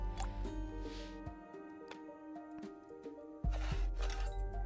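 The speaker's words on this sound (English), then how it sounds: "The water leakage." Water leaking and dripping in the video game Boxville, a few soft drips and liquid splashes over a steady tonal game soundtrack.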